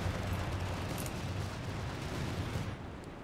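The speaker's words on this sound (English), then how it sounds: "Any kind of artillery is coming down here," Artillery barrage in the video game Company of Heroes 3, a dense, continuous rumble of overlapping explosions that stays loud throughout and eases slightly at the end, with no talk.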